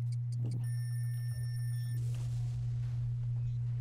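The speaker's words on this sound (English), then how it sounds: "The second I heard the ticking." Bioshock video game sound effect: a series of high electronic tones pulsing steadily for about two seconds, then cutting off into a low hum and a swelling rumble.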